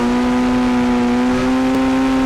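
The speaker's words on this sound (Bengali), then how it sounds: "আর কি ড্রিফট করতেছে গাড়িটা, পুরাই তো GTA 5 এর কপি।" A car drifts in a GTA 5-style video game, its engine holding a loud, steady high-pitched whine as it revs continuously, heard close without talk.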